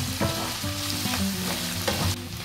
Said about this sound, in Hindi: अगर आप और क्रिस्पी खाना चाहते हैं तो थोड़ी देर के लिए और फ्राई कीजिए